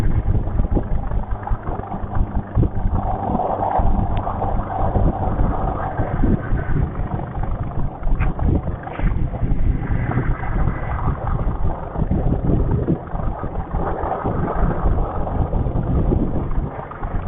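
A motorcycle fitted with a stock Byson carburetor cruises at 50 to 60 km/h in third gear, its engine drone steady and continuous beneath heavy wind rush across the whole stretch.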